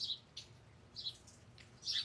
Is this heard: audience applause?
no